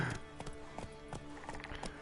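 Horse hooves clip-clop in The Witcher III, a steady rhythmic trot of repeated close taps over a soft game ambience, fairly quiet.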